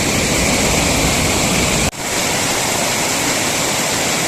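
Loud, continuous rushing water from a stream flowing toward a waterfall in Kolli Hills, close to the microphone, with a momentary dropout midway and no voices.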